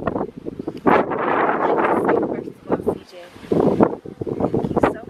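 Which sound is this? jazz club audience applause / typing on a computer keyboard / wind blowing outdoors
wind blowing outdoors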